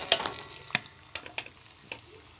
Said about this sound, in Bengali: প্রথমে তেলটা গরম হয়ে গেলে প্রথমে আমি পেঁয়াজ কুচি দেব।